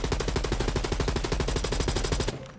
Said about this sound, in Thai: เดี๋ยวผมจะลองยิงแบบว่าไม่ลองไม่บังคับจอ เลยนะครับ